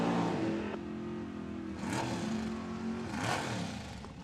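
A nitro Funny Car engine revs loud and close during a tire-heating burnout at a drag racing event, its harsh roar rising and surging twice over a sustained rumble.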